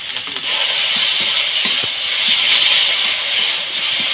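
Spices for a fish curry fry hard in a pan with a loud, dense sizzle and hiss after a brief quieter start, and faint stirring taps sound underneath.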